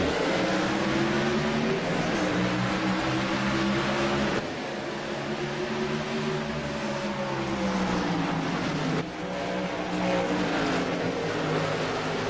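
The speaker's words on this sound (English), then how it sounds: "Stefan Nobis ready to hit the loud pedal one more time" A race car engine drones loud and steady as the field accelerates at a green-flag restart, pitch sweeping up through gears with two brief dips at the shifts, heard from trackside without commentary.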